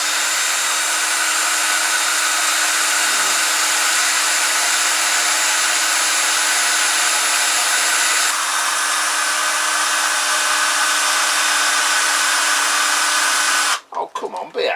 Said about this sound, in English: that's a new drill